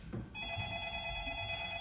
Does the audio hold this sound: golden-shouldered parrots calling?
no